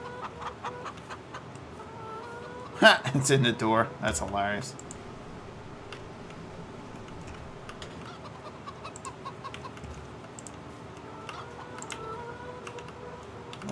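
A rooster in Farming Simulator 22 clucks in a quick burst of calls lasting about two seconds. Someone talks casually over quiet game ambience before and after.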